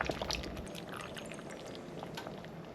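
Coconut milk pouring into a pot of Jamaican-style stew peas gives a steady liquid rush, loudest at the start, then a continuous soft splashing hiss under a quiet kitchen.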